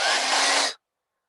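A handheld blow dryer runs in a short, steady airy whoosh to dry acrylic craft paint, then cuts off abruptly, leaving silence.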